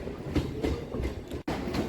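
A Kolkata Circular Railway train runs steadily, its rolling rumble and rhythmic wheel clatter continuous and close, with a brief sharp dropout near the end before the noise resumes; no voices.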